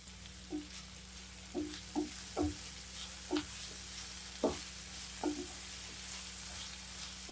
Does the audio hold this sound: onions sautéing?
yes